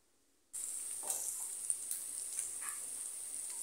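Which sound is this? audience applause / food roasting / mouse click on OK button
food roasting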